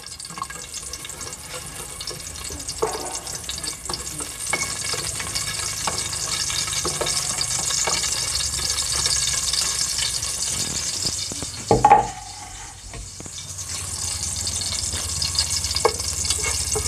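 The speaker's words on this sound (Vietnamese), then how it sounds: "mình để vô miếng dầu ăn với mình cháy tỏi cho nó thơm" Garlic sizzles in cooking oil with soybean paste, a close, continuous crackling fry with occasional stirring clatter and a sharper burst partway through.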